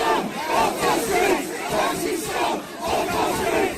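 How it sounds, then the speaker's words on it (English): A large street crowd of counter-protesters around an asylum centre in Liverpool chanting in unison, a loud rhythmic repeated chant rising and falling in waves. "in Liverpool the crowd chanted "Migrants are welcome here" as they filled the streets around an asylum centre"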